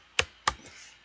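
Two sharp key presses on a computer keyboard while entering drafting software commands, evenly spaced and moderately close, followed by a faint softer tap.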